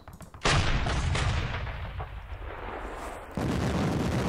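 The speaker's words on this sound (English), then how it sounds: "So let's fire our guns." Artillery guns firing a barrage in Panzer Campaigns Stalingrad '42, heavy booming blasts with a long rumbling decay, then a second loud blast near the end.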